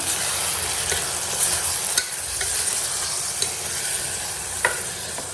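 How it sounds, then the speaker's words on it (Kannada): Masala and vegetables sizzle steadily in a hot pan while being stirred, with a constant frying hiss and occasional faint scraping taps of the spoon. "ಈಗ ಚೆನ್ನಾಗಿ ಮಿಕ್ಸ್ ಮಾಡ್ಕೊಳ್ಳೋಣ"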